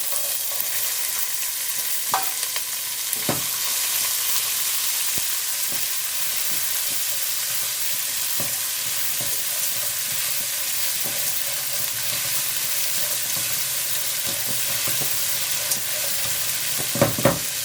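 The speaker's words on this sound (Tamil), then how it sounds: "நம்ம காயெல்லாம் நல்லா வதக்கி காய் வெந்ததுக்கப்புறம்" Capsicum and curry leaves sautéing in a pan for South Indian aval upma, a steady close sizzle with scattered stirring clicks and scrapes running throughout, no voices.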